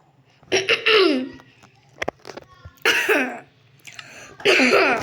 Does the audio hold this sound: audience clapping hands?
no